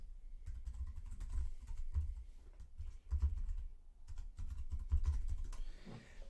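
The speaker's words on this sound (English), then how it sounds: "type in their email address." Fingers tap out an email address on a computer keyboard in a steady run of soft, close keystroke clicks with brief pauses, heard alone and not under speech.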